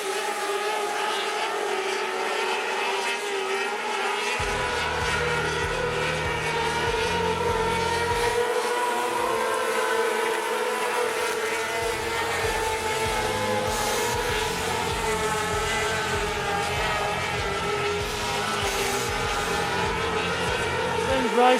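Loud, sustained engine roar of Formula 500 race cars at high revs on a speedway at night, valves bouncing, a dense droning wall of sound with a steady, unbroken intensity throughout.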